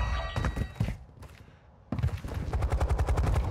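Rapid bursts of automatic gunfire in Modern Warfare 2, a short volley followed by a pause, then a longer close, loud rattling stream of shots.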